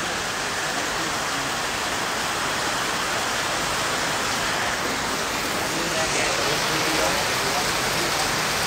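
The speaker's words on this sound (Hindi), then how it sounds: "बहुत ही शानदार बारिश हो रही है, देख सकते हो आप" Heavy rain pours down in the mountains near Kedarnath, making a dense, even hiss. The downpour is loud and constant throughout, with no break.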